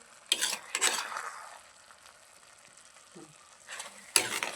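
Carrot halwa stirred in a pan, with bursts of spoon scraping and light sizzling near the start and end and quieter sizzle between; no voices.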